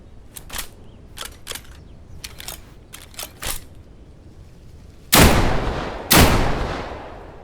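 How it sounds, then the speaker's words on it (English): Double barrel shotgun firing in the video game Deadside: clicks and metallic handling sounds of loading, then two heavy, booming shots about a second apart, loud and close. "Of course, a normal double barrel shotgun."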